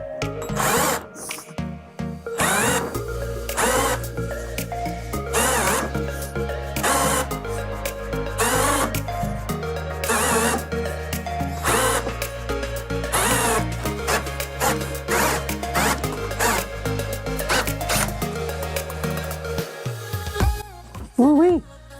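Power drill driving a BEAMNOVA hand-crank scrap cable wire stripping machine, motor whirring in repeated bursts with pitch shifting as it loads and slips, mechanical clatter and rattling throughout, with a person exclaiming near the end.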